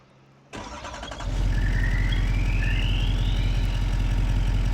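A Duramax diesel truck engine in a farming game cranks briefly and then catches, settling into a loud, steady, close rumbling idle with a rising whine over it.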